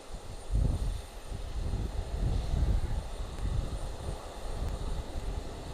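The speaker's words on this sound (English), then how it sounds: "So our first arrival on this side looks like an E175" Embraer E175 regional jet arriving at Houston's IAH airport, a steady low engine rumble with broad roar, moderately distant and continuous without speech.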